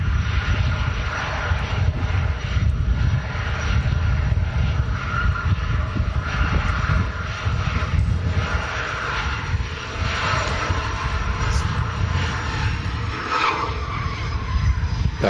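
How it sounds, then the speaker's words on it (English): A fixed-wing plane's aircraft engine drones steadily and loudly, a continuous roar that holds at a near-constant level with no talk over it, heard by plane spotters. "Very nice aircraft this."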